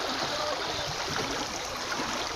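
A clear river rushes and babbles in a continuous bright hiss, a steady flowing stream close by with no talking.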